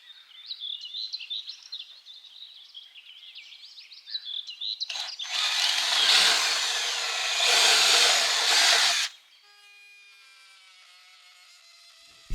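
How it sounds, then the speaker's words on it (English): A router cuts into a wooden stud to make room for wiring, giving a harsh high whine and grinding roar for a few seconds after faint scraping, then winds down to a fading ringing hum. "I'm trying to make this with the router, but it's not so easy"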